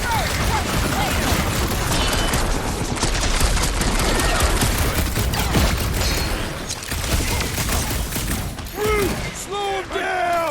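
A big gun fires continuously in Guardians of the Galaxy during a fight against a charging jelly creature. The dense, loud barrage runs for several seconds, then gives way to rising whoops and creature cries near the end.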